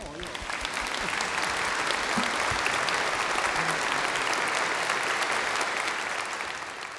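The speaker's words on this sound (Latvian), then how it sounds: "Aplausi komponistam." A church congregation at a Lutheran service in Riga applauds the composer with steady, dense clapping that holds at an even level for several seconds before easing slightly at the end.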